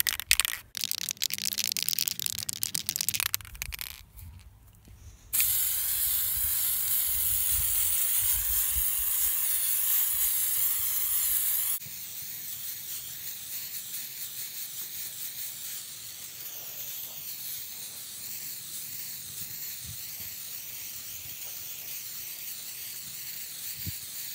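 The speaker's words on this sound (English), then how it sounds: "It's spray paint acrylic base, white one, and I will just shake it a little bit and spray it" A few seconds of rattling and handling noise as a can of white acrylic-based spray paint is shaken, then a long, steady, loud hiss of spray that continues, softer, to the end.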